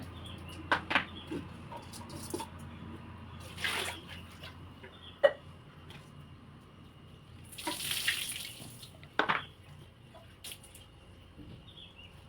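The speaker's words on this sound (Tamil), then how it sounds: "வடித்து குளுந்தண்ணி ஊற்றி அலாசி விட்டுருங்க." Cold water splashing and trickling over drained noodles in a sink in short bursts, with clinks and drips between, close by and fairly quiet.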